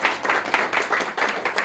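A church congregation claps loudly and steadily in a short burst of dense, rhythmic applause close by.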